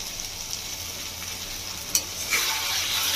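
Tangra fish with potato, brinjal and capsicum sizzles steadily in a pan as chopped spice paste goes in, with a brief clatter near the middle and a brighter, louder hiss of frying toward the end.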